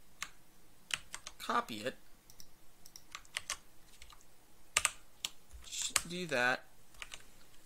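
Computer keyboard keys pressed in short bursts of clicks while setting up content for Garry's Mod, with someone talking over the typing at close range.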